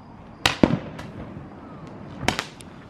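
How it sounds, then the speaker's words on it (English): Roman candle fireworks set off at a Fourth of July gathering: a pair of sharp, close bangs, then quieter pops and a second pair of bursts near the end, over faint background noise. "shooting off Roman candles"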